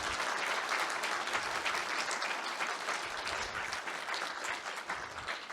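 A conference audience applauds steadily for a speaker, a dense, even clatter of many hands held at one level for several seconds.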